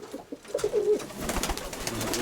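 Steel-coloured white-tailed pigeons coo softly nearby, low murmuring calls over a background of rustling and shuffling.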